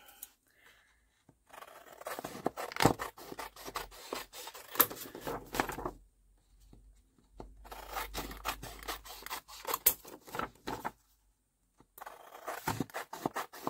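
Paper edges being trimmed with scissors while working in a vintage-themed altered book, heard as bursts of close, crisp snipping and rubbing with short quiet gaps between them.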